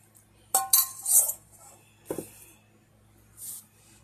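Elderberry pie in a 9-inch pie pan going into an oven, a few close metallic clinks and rattles of pan and rack, followed by a soft clunk and a brief hiss, no talking.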